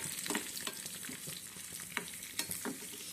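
Dry red chillies and crushed garlic fry in hot oil, giving a soft, continuous sizzle broken by sharp spattering pops and stirring scrapes, close by and fairly quiet, with no voices.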